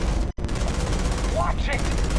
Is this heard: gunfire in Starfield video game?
yes